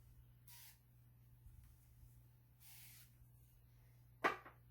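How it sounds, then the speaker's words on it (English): BioFreeze spray hisses onto a person's back in two separate short, soft bursts, followed by a sharper click or tap close by. "I grab some BioFreeze and spray it on my back"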